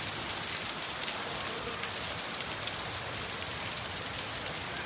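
A dense, even wash of heavy rain pours down throughout, constant and close with no other sounds.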